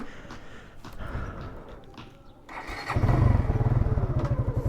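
Motorcycle with newly fitted piston rings, its engine faint and mixed with breathy noises at first, then revving up into a loud, steady, pulsing idle that holds to the end.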